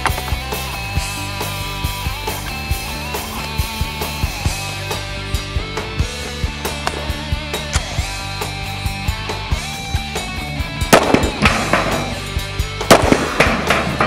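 Gunfire at an outdoor shooting range, with sharp shots cracking at a steady, fairly regular rhythm for the whole stretch and getting louder and denser toward the end.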